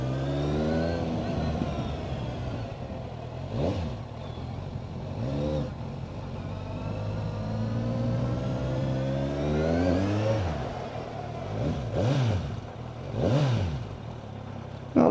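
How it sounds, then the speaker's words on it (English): A Kawasaki Z1000 SX sports tourer with an Akrapovic exhaust accelerates through the gears, its engine note climbing and dropping in repeated revving sweeps that stay close and steady throughout. "Now, a little bit of pops in this Akrapovic. A few pops on the down, on the overrun, on the down revs."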